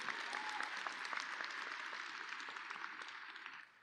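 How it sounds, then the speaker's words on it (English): A graduating class and crowd at the Champaign Central High School Class of 2024 ceremony applaud in a soft, distant wash of clapping that slowly thins toward the end. "Give yourselves a round of applause."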